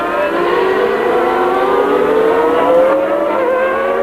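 Formula 1 cars race at Donington Park during the 1993 European Grand Prix, a loud high engine whine rising steadily in pitch as a car accelerates close by, with rough harmonics and no speech over it.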